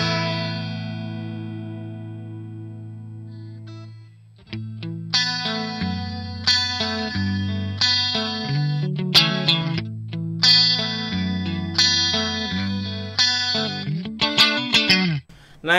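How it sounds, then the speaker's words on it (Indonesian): Electric guitar played through the Arion SCH1 chorus model on a NUX MG30 multi-effects unit, a sustained shimmering chord followed by rhythmic strummed and picked chord phrases with a wavering, doubled chorus texture, loud and close with no talking. "model dari Arion SCH1 Chorus Made in Japan. Kayak gini suaranya."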